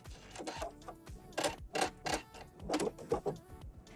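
A sewing machine runs stitches around the outer edge of a capelet, giving bursts of rapid mechanical whirring broken by short pauses while the fabric is turned, close and moderately loud.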